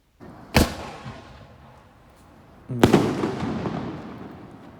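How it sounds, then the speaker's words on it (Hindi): Two sharp firecracker bangs about two seconds apart at a Chinese New Year street celebration in China, loud and close, each followed by a rumbling echo and crackling street noise. "ये अब जा रहा है पटाखे फोड़ने"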